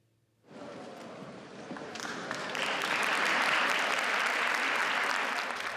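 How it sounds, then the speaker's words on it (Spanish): Applause erupts at a convention closing ceremony, starting abruptly after a brief silence and building into sustained, dense clapping from a large crowd that holds steady to the end. "Un ingreso entre aplausos"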